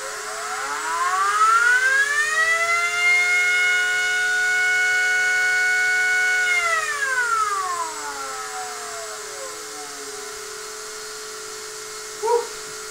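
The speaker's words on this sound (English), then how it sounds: "I took a sound recording of the motor while filming it in slow motion" Axial flux synchronous motor prototype spinning up to maximum speed, a loud whining tone that rises in pitch, holds steady for several seconds, then falls away as it slows, with a brief click near the end.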